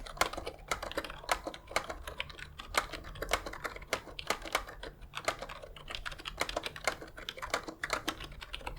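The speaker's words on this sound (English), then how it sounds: "they feel and sound really hollow when you type on them, especially the spacebar" Fast, steady keystrokes on a cheap ergonomic membrane keyboard with hollow plastic keycaps, a rattly clatter that runs on alone and close by, with a few heavier thuds mixed in, likely the spacebar.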